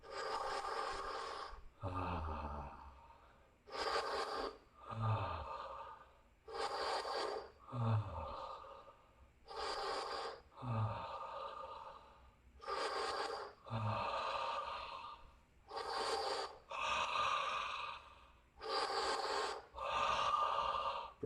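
Forceful breathing exercise with about a dozen loud, sharp breaths, each a hard push or snort through the nose in a steady rhythm, heard close up with short pauses between them.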